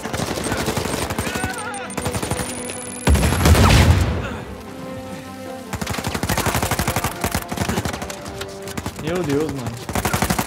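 Heavy gunfire in an Uncharted 4 firefight, rapid bursts of automatic shots and a louder blast, going on nearly throughout while someone talks over the fighting.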